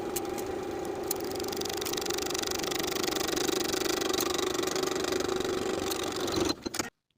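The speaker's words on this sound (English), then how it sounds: "we're going to hem the sleeve, sewing right along our finishing stitches all the way around." A sewing machine stitches steadily around a sleeve hem along the finishing stitches, a continuous mechanical whir with faint rattle that runs unbroken for several seconds before cutting off abruptly at the end.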